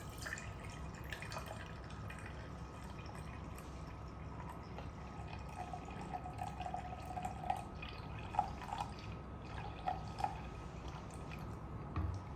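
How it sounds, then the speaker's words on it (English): A measured 200 milliliters of laboratory solution pours into a beaker, producing a soft, steady liquid trickle with light drips and splashes near the end, and no talking. "So I shall add in 200 milliliters of solution A."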